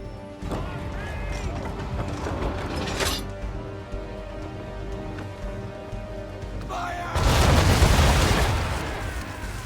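Cannon fire igniting old powder barrels in Assassin's Creed 3, heard as a heavy explosive boom and crash late in the stretch. Earlier sharp blasts and game sounds come first, and a voice can be heard in the background.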